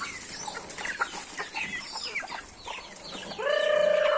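Chickens cluck in quick, irregular bursts close by, then one bird breaks into a long, loud sustained call at the end.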